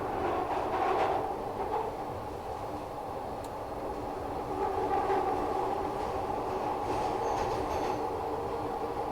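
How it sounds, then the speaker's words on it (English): Glasgow Subway train in a Train Simulator game rolling along with a muffled rumbling interior drone and repeated soft clicks from the track joints, at a moderate, steady level throughout. "Do like the track joint sounds on here though"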